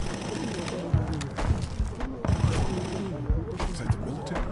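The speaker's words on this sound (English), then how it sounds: "Why is somebody shooting?" Gunfire in The Walking Dead Telltale game, several sharp shots cracking at irregular intervals over a busy, noisy backdrop, with people talking over it.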